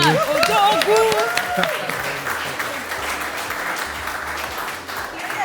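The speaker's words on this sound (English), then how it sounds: "Clap for him." An audience at a Nigerian business gathering applauds a speaker from an Apple distributor, sustained clapping from many hands that starts over a brief voice and then continues evenly on its own.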